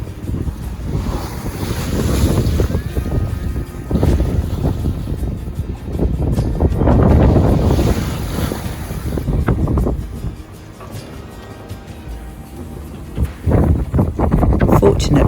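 A sailboat rolls through open-sea waves off the southwest coast of England, with loud continuous wind buffeting the microphone and surging water rising and falling in long swells.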